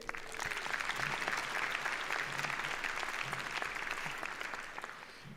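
Dense audience applause fills a commencement ceremony hall, sustained and even throughout before tapering slightly at the close.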